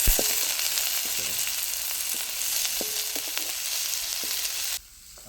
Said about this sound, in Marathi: तर आता इथं आपण कांदा तळसून घेतला आहे कांदा चांगला लालसर तळून द्यायचा आहे